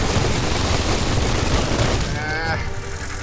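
Gunfire in the video game Biomutant, a dense, continuous rattle of shots and booms filling the whole short moment at high volume, with a faint voice briefly heard near the end.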